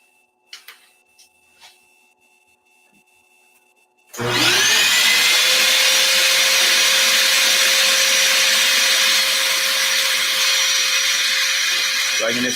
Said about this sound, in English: you're going to hear the vacuum is going to be pretty loud